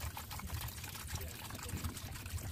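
Liquid poured slowly into a bucket to soak computer boards for tin removal, a steady low trickle running throughout, with faint indoor background noise.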